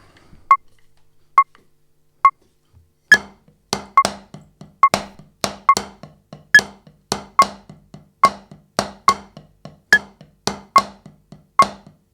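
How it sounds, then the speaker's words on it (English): Metronome pre-count of sharp electronic clicks, three sparse beeps first, then a steady run of accented clicks that gradually quickens as each bar is set one BPM faster, heard alone without talk. "Just gonna hear the metronome. And every bar goes a little bit faster, 1 BPM faster."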